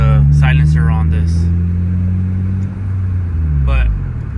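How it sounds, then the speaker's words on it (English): A 2013 Honda Civic Si coupe with an Invidia N1 catback exhaust holds a loud, deep, steady engine drone that dips briefly and then rises again. A person talks over it. "enjoy that loud exhaust, the Invidia N1. It sounds so beautiful"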